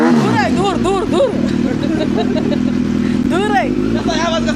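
A motorcycle engine runs with a steady low drone close by, while excited voices talk and shout over it throughout.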